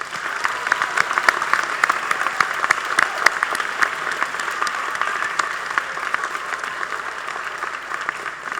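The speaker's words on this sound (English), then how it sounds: "Another round of applause for our students." Sustained audience applause at an eighth-grade school awards night, a dense, even patter of many hands clapping from start to finish without a break.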